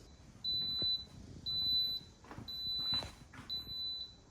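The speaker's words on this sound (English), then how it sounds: "It has beeped." A rice cooker signals it is done with four evenly spaced electronic beeps, each about half a second long, ringing out clearly over a faint background murmur.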